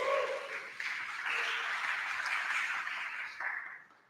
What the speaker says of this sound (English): give it a round of applause for yourselves